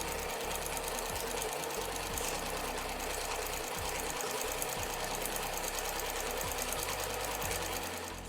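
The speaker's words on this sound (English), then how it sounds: "let's take it over to our sewing machine, and we're going to stitch along both sides of this." A sewing machine runs steadily with a fast, even mechanical chatter, close and continuous, briefly slowing and resuming as it stitches along both sides of tote bag handles.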